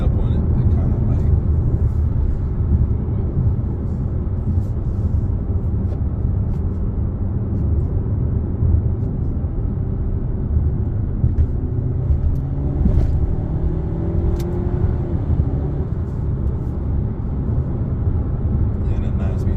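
A 2023 Dodge Hornet GT Plus AWD with a 9-speed transmission accelerating, heard from inside as a steady low engine and road rumble with people talking over it.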